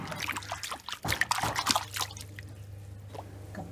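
Peeled tapioca being rinsed by hand in water, with close splashing, dripping and trickling that bursts louder in the middle and then settles into a steady low background hum.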